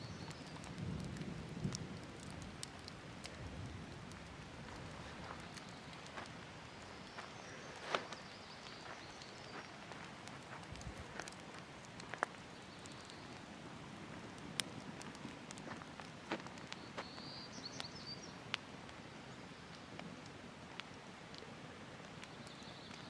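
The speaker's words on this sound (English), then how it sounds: "Hear thunder in the background." Faint rain patters steadily with scattered drip ticks, while low rumbles of distant thunder roll in softly underneath.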